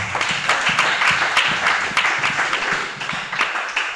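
A church congregation at a Christian seminar claps and applauds continuously, a dense, steady wash of many hands close by, without speech.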